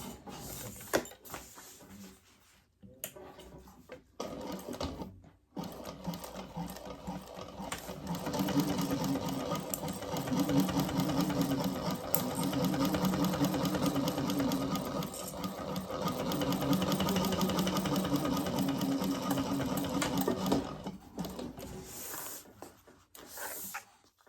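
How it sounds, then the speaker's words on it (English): A sewing machine top-stitches along the edge of a laptop bag, its motor running in a long, steady, fairly loud whir for most of the stretch, with brief handling pauses and quieter starts near the beginning. "we're going to top stitch along this edge"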